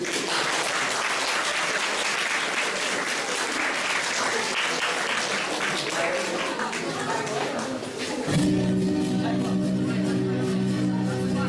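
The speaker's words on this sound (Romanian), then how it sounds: "să-i aplaudăm!" Audience applause at a high school freshman ball in Romania, a loud, dense clapping crowd sustained for about eight seconds before music abruptly takes over.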